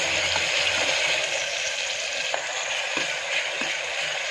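Onions frying in a pan toward golden brown for a chamadumpa curry, an even close sizzle and hiss with a few faint stirring taps, steady throughout and unaccompanied by speech.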